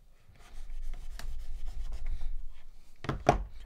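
A razor sharp knife slicing through the frayed end of a synthetic 4x4 winch rope, soft rubbing and sawing strokes ending in a sharp, loud final cut.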